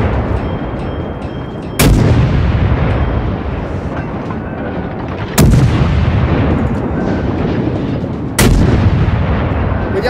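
Warship artillery guns in the World of Warships naval battle game fire three heavy, booming salvos a few seconds apart. Each blast is sharp and loud, followed by a long rumbling roar that carries on between shots.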